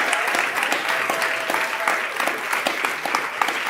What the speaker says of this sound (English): Everyone clap